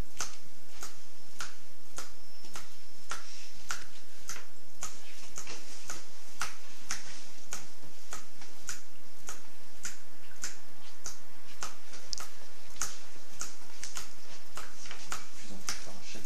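Sharp finger snaps by a hypnotist during a hypnosis session ring out in a steady, evenly spaced series of about two dozen clicks over a quiet background, each snap crisp and close.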